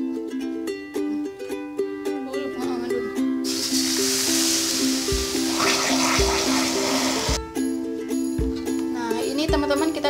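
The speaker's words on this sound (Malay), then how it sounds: "kalau udah mendidih meleleh kayak gini gula pasirnya, sekarang kita kasih air 250 gram tadi ya" Water is poured into boiling melted granulated sugar caramel for a Bolu karamel sarang semut cake, giving a loud, sustained hiss and sizzle of a few seconds over a steady background tone, then fading into quieter bubbling.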